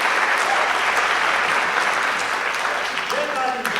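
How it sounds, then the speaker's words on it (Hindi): A crowd at a Hindi poetry gathering (kavi sammelan) breaks into loud, sustained applause, thick and even throughout, with faint voices rising briefly near the end. "सारे लोग एक बार जोरदार तालियां बजा दीजिए"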